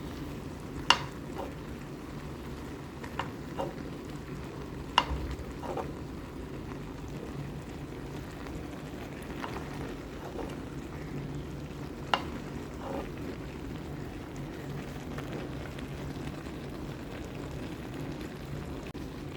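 Salmon belly simmers gently in a pan over low heat for a tomato-based kinamatisan dish, giving a soft, steady sizzle with a few sharp utensil clinks scattered throughout.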